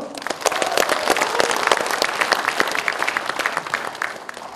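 Crowd of party members and delegates applauding at a Korean Democratic Party rally for leadership candidates, dense sustained clapping filling the hall at moderate loudness.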